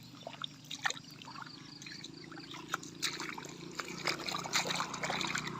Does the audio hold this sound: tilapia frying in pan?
no